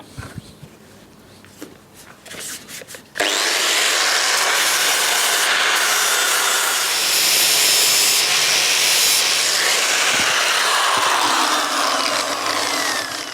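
Grinding tool smoothing the top of stainless steel bumpers for a TVR 3000M, a loud continuous broadband abrasive roar starting abruptly after a few seconds of quieter scraping and handling, steady and close with slight pitch shifts.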